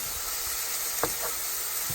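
Sausage sizzling steadily in a frying pan as it is chopped up for a sausage, egg and cheese casserole, a constant loud hiss with a few faint scraping taps of the utensil and no talking.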